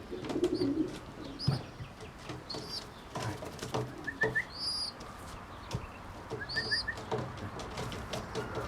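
Tame pet birds coo softly at close range while chirps and light rustling fill a quiet indoor space.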